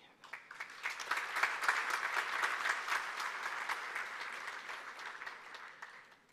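Audience applause at a live event in Lomé as a man is called to stand, a broad crowd clapping that swells quickly, holds steady for several seconds and then tapers off.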